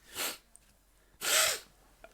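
A sick podcast host sneezes close to the microphone: a short, sharp intake of breath, then a louder, longer sneeze about a second later, with near silence around them.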